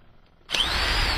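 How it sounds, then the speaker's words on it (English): An electric drill plugged in and switched on, starting abruptly after near silence and then running loud and steady with a dense high-pitched whine. "had plugged in the drill"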